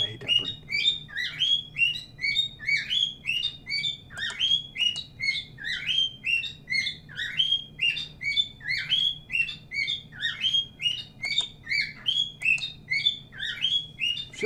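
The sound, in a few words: bird chirping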